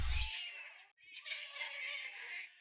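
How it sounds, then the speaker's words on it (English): A cat yowling outdoors at night, a long, strained caterwaul that stops briefly and then rises again, fairly faint and distant with no talk over it. "I hear the cries of a cat voice outside and wonder if they're having a terrifying"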